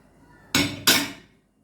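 Two sharp metallic clanks, spaced about a third of a second apart, while spices go into a meat tagine, each one bright and ringing briefly before fading into near silence.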